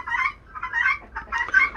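A Gurk hen on a farm gives repeated loud, agitated clucks in three or four bursts across a couple of seconds, close by and with no talk over it.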